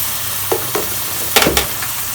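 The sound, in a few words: chicken frying and being stirred in a pan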